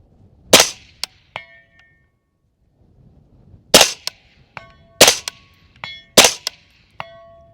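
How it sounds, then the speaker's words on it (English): Rifle shots fired at a target 209 yards away ring out alone in a loose series of four sharp cracks, each followed by a quick distant metallic ping of the hit, with silence between. "let's go ahead and put some rounds on it"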